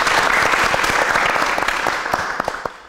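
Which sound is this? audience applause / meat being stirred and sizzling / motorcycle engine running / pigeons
audience applause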